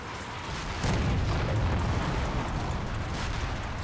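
A StuG assault gun fires on a Sherman tank in a World War II combat game: a loud, heavy boom with a rumbling tail that rolls on for several seconds, with no voices over it.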